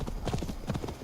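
Horse trotting in Assassin's Creed Valhalla, a quick run of rhythmic hoofbeats, close and moderately loud, over a brief moment.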